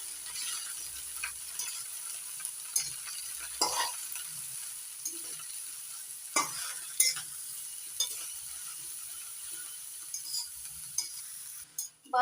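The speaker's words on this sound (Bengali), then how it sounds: "এবার বাঁধাকপি কমে আসা পর্যন্ত নাড়াচাড়া করে নেব" Shredded cabbage frying in a pan and being stirred: a steady sizzling hiss throughout, broken by scattered scraping and clacking stirring strokes. No one speaks.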